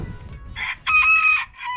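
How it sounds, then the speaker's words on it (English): Chickens inside a backyard chicken coop let out a few short, loud, squawking calls and clucks in quick bursts, close by and with no talking. "And this is our chicken coop."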